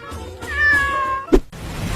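A cat meows once in a film scene, a clear close mid-pitched call, followed by a short thump and quiet background.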